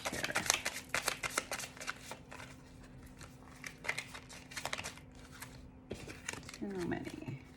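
Tarot cards are shuffled during a reading, a run of crisp riffling and flicking bursts close by, pausing and resuming, with a soft hum underneath and a brief rustle near the end.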